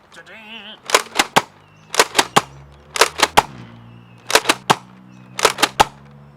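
Nerf Mega Megalodon blaster firing darts outdoors, heard as several loud sharp bursts of popping shots in quick groups of three or four, spaced over a few seconds, with a brief buzzing whir at the very start.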